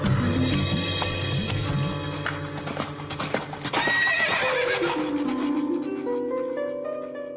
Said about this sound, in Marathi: घोडा घेऊन भाऊ आला होऊन चिंता तूर